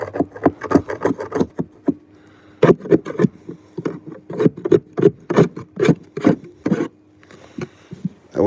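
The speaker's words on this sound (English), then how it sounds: "I might even need to get all of this sanded down that way" Old flashing on clapboard siding being hand-sanded up close, with quick rhythmic rasping strokes in bursts, separated by short pauses.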